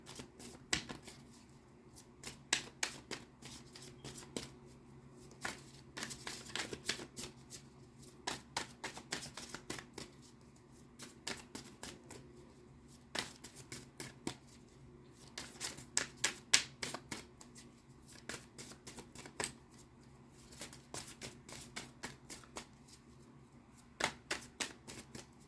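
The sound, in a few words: shuffling oracle cards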